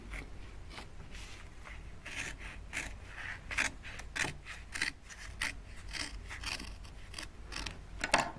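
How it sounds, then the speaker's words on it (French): Scissors snip through folded paper along its creases while folding an old-style booklet, a close, steady run of crisp cuts and rasping slides with sharper snips standing out, no voices. "je découpe suivant tous les plis."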